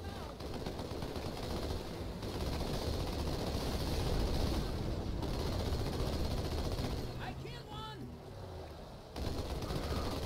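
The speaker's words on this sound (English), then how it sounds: "I think it's an AA gun. Or it's an anti-starship gun." Anti-aircraft gun firing in Halo 2 Anniversary, a steady, heavy barrage of rapid booming shots that runs throughout, with a voice speaking over part of it.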